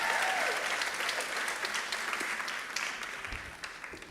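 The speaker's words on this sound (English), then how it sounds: "Let's close with another round of applause for Janie." A crowd applauds for Janie at a closing moment of an event, a dense, steady wash of clapping that holds for several seconds and tapers slightly toward the end.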